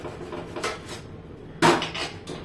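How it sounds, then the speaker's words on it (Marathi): A knife trims the stem off an eggplant on a cutting board, giving a few light taps followed by one sharper, louder cut and clack near the end, close by with no talking. "त्याचे देठाचा भाग आहे ना हा असा थोडा कापून घ्यायचा आपल्याला।"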